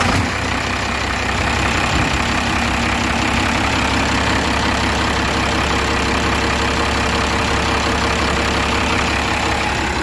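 A truck engine, running again after costly repairs and an oil leak fix, starts and settles into a loud, steady close-up idle with a heavy low rumble and faint knocking, and no voices over it.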